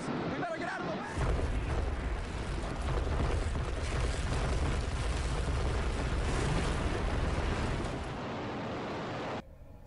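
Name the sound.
huge explosion with falling debris, news recording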